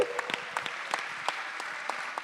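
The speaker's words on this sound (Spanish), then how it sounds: "así que lo recibimos con un aplauso" Audience applause welcoming a speaker at a family-themed talk event, a moderate crowd of steady clapping with sharper individual claps standing out, no voices on top.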